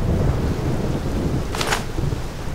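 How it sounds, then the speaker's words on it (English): Thunder rumbles with steady rain in the fantasy video game Morrowind, a loud continuous downpour with a brief sharp crack of lightning partway through. "Now lightning!"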